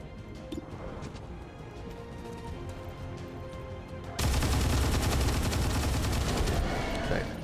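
Dense, continuous gunfire in XCOM 2, with rapid overlapping bursts that swell sharply louder halfway through and hold as a loud, steady barrage against a Berserker, with no voices.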